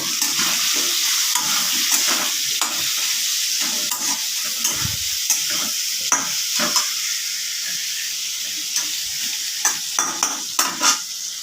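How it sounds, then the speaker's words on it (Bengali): Potatoes frying in oil with turmeric and salt in a pan for a soybean and potato dish, a steady close sizzle with repeated stirring scrapes and clicks throughout, no talking. "এটা ভাজা হয়ে গেলে আলুটা ভাজা হয়ে গেলে আমি সোয়াবিনটা ভেজে নেব"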